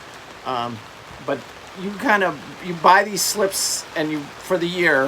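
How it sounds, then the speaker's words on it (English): Steady rain falls around a quiet, off-the-beaten-path marina with boat slips and sheds, a continuous soft hiss running beneath someone talking throughout. "And it's raining, so you guys can hear it in the background there."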